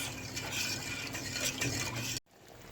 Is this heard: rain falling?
no